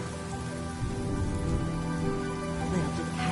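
Steady rain falling and pattering on surfaces in a video game story mode, an even wash of sound throughout with faint background tones.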